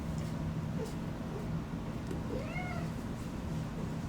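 A cat meows a couple of times, rising and falling, over a steady low background hum.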